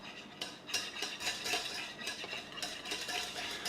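A wire whisk or utensil stirs hollandaise sauce in a coated pan, making continuous close scraping and light metallic clinks in a steady rhythm with no talking.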